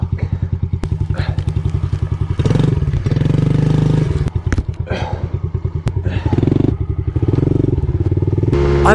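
Motorcycle engine chugging in a fast, even rhythm that sputters and catches, then revs louder with thumps and clatter, the idle pulse returning between bursts.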